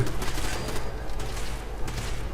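Gunfire in the video game Fallout 4 rattles through a busy, steady wash of combat noise, fairly loud and continuous over the whole stretch without clear separate shots.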